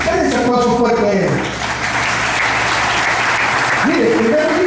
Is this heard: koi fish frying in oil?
no